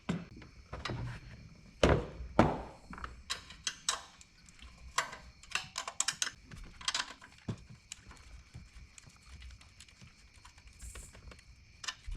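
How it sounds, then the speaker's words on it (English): A wrench loosens a ground connection on a BMW M6, making a series of quiet, irregular ratcheting clicks and metallic ticks, some close and sharp, over a low background hum with no talking. "All right, I'll just get it with a wrench."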